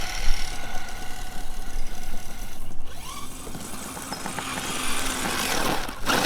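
An RC Jeep Cherokee crawler with a Spektrum Firma motor and ESC runs at maximum reverse, its motor giving a steady, fairly loud whine with a mechanical drone that shifts slightly partway through.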